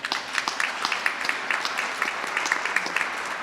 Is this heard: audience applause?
yes